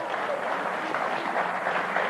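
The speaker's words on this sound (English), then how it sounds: "Mr. Wilson here was just applauding you." Steady applause fills the whole stretch, a dense, even patter of many hands from a studio audience on a talk show, with no voices breaking through.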